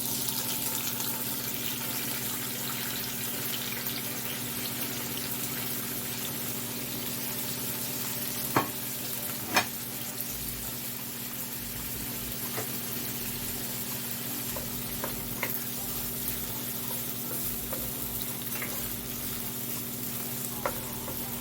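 Callaloo greens stir-frying in a pot on a stove, giving a steady, continuous sizzle with occasional faint clinks and stirring noises throughout.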